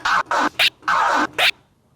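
Five crisp, close record scratches from a DJ working a turntable platter, back-and-forth strokes of varying length in a quick run, loud and alone, ending in quiet.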